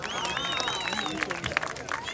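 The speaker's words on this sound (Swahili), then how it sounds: "Tuwapigie makofi." Outdoor crowd at a football event clapping, a loose scattered patter of applause with murmuring voices and a whistling tone above, moderately near and steady.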